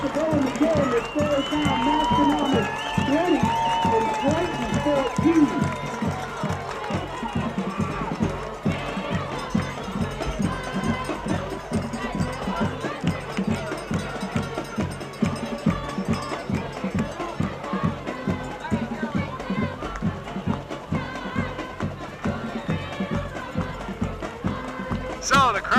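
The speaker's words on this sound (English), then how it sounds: "So the crowd is livened up here at Triton." A lively high school football crowd at Triton murmurs and cheers steadily throughout, with a commentator talking over the rising and falling stadium noise.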